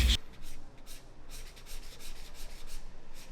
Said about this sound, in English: I really like the sound it makes when I'm like coloring with it on the paper.